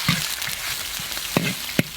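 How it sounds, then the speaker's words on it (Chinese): Pork belly fries in a little oil in a wok, a steady close sizzle broken by a few sharp spatula knocks and stirring scrapes. "锅里加油，少放一点这个肉啊，五花肉"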